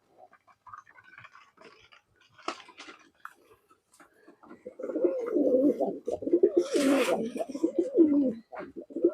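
Young pigeon chicks make soft, low, murmuring coos up close. The cooing runs continuously through the second half, after a few faint clicks and rustles at the start.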